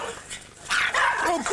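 Several dogs bark and yip in a sudden, loud, excited burst after a quieter start, close by, with sharp overlapping calls and whimpery tones.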